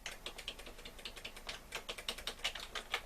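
Rapid, repeated key presses on a VTech 386SX/33 laptop keyboard, a close, quiet clatter of irregular taps with no talking.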